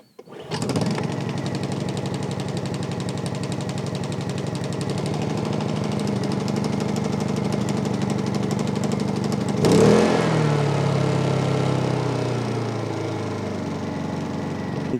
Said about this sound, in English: So we got a newer suitcase Honda 2200.